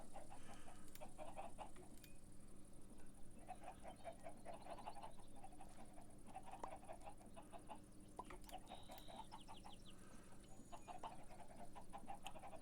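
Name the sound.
chicken clucking in a video game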